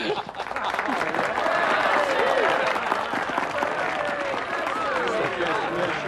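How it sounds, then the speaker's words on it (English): A crowd applauds and cheers for a ship's captain, dense continuous clapping mixed with whoops and voices throughout, loud and sustained. "Then give him three cheers"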